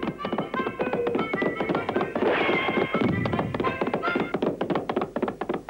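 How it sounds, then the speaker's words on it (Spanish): A horse in a Terrytoons western cartoon whinnies in a long wavering neigh amid quick knocking thumps and taps, with busy cartoon soundtrack activity around it. "tengo bastantes problemas con este caballo al que no puedo parar"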